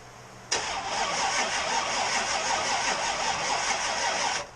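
A supercharged small-block Chevy V8 cranks and fires on its first start, catching with a sudden burst and then settling into a loud, steady, throbbing idle that holds until it cuts off.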